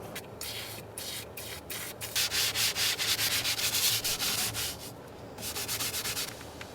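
A leather steering wheel on a Porsche is scrubbed with Sonax Extreme leather cleaner, making a close, loud rhythmic rubbing of quick back-and-forth strokes with brief pauses.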